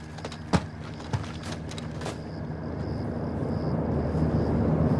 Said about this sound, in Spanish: Viene un helicóptero.